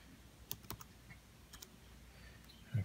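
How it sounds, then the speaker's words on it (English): A password is tapped out on a computer keyboard, a few sparse, uneven keystrokes, close and quiet, with a heavier thump at the end and no speech. "I'll go ahead and put my password. So nervous I can't even type properly."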